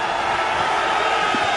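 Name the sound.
crowd cheering at an XFL football game in the Coliseum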